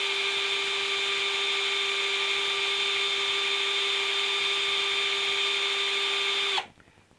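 A power drill boring a hole for a Pyramid Plastics Extenda Fenda on a BMW G650GS, with a steady high whine held for several seconds before abruptly cutting off, close and loud.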